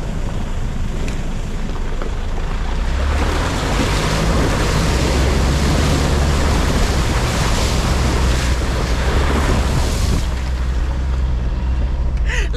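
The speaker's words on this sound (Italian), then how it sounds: "il fiume ha tutte le ramificazioni e noi stiamo cercando di attraversarlo" A 4x4 camper fords a flooded, branching river in Mongolia, steady loud rushing water and engine rumble filling the whole stretch, with wind buffeting the microphone throughout.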